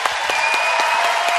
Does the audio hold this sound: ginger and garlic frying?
no